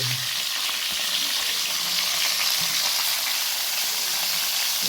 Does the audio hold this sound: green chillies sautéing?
yes